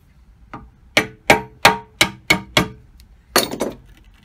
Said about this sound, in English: So I'm going to have to force this open, I reckon. So I'll use the same screwdriver again.